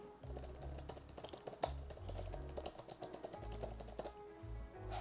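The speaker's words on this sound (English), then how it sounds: "what I want to do is try to type something on here" Fingers type on an ESR iPad keyboard case, a quick run of close, crisp key clicks with a few brief pauses, steady and alone without talk.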